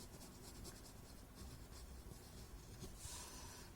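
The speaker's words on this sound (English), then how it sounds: "I am going to add graphite on this line" Graphite pencil drawn along a line on paper, a faint, steady scratchy stroke continuing for several seconds with small bursts of scraping, close and quiet, no voices.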